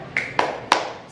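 Hand claps from a primary school class doing a cheer, three sharp separate claps spaced across about a second, moderately loud against a quiet room.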